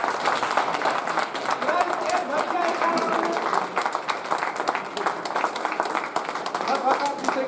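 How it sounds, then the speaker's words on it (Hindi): A seminar audience in Varanasi claps steadily for the full stretch, a dense and even wash of applause with voices mixed in. "जबरदस्त तालियां भाई।"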